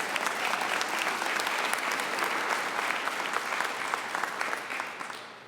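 Steady applause from an audience at a talk on African American family history and genealogy, sustained and fairly full throughout before tapering slightly at the end.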